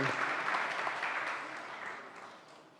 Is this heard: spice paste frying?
no